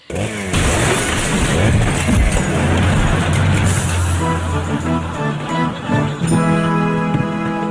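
A car drives past with a loud, rough engine roar and rumble that settles into a steadier tone, with brakes said to need checking; no speech.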